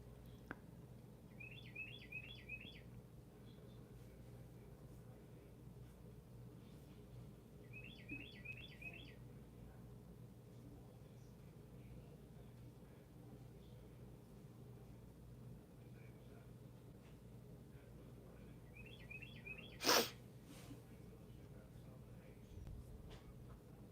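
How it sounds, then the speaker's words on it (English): Small birds chirp outside a window in short trilled bursts repeated every few seconds, faint over steady room hum, with one sharp knock near the end. "Yes, you did hear birds."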